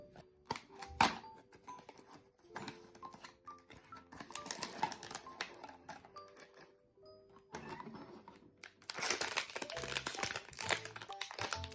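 Paper packaging of a Tinyville blind bag crinkles and tears in irregular bursts, close and quiet, with sharp crackles and rustling that grow busier and more continuous toward the end.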